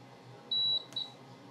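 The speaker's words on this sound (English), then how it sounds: "hold down shift and turn the power on and wait for a loud beep" An HP 34401A multimeter gives its self-test startup beep when powered on: a loud, clear, high electronic tone lasting about a quarter second, then a brief click and a shorter second beep, over quiet room noise.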